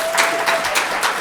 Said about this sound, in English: let's give a round of applause to Takia one more time